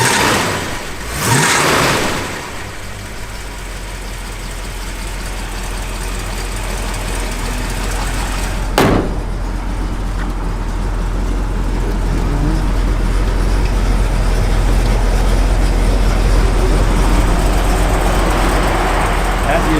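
A 1970 Plymouth Cuda with a mild cam accelerates hard, its engine note swelling steadily from a low idle-like rumble into a strong, building roar, with a brief sharp burst near the start and another midway.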